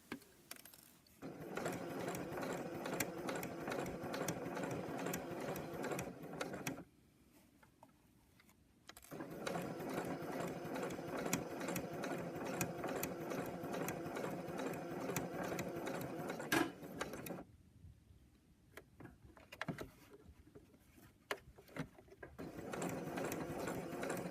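A domestic sewing machine stitches a seam on a fabric pencil case, running in two long steady bursts and a shorter final run with brief quiet pauses between, close and alone.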